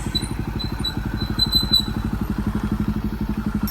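A Bajaj NS motorcycle with a modified exhaust idles close by, with a loud, rapid, even thumping pulse and faint chirps in the background.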